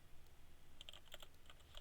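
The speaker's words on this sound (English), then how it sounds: "I am not good at typing and speaking at the same time" Keys on a computer keyboard tapped in a short irregular burst of crisp clicks, close up and fairly quiet over a low steady room hum, with no voices.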